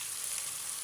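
Cumin seeds frying in a pan, a soft, even hiss that stays faint and steady through a brief moment, with no voices.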